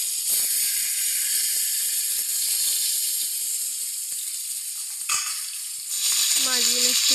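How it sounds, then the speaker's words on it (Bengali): Tilapia and puti fish frying in hot oil in a wok, a steady loud sizzle throughout with a brief clatter near the end and faint scraping or stirring sounds. "মাছগুলো একটু লাল লাল করে ভেজে নিলাম"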